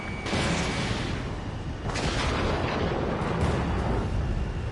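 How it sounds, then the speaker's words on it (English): A missile launches in the jet combat game Ace Combat 7 with a loud, continuous roaring rush. The sound stays sustained with booming swells throughout, dense and close, with no break. "Spare 15 launching missile"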